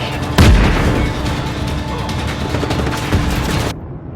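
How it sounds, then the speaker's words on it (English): Heavy explosions and gunfire from the video game Just Cause 3, with a loud blast near the start and then a dense, continuous roar of booms and shots that carries on for several seconds before cutting off abruptly. "It's so satisfying to set up a bunch of C4 explosions on a fuel tank and stand back and listen to the carnage."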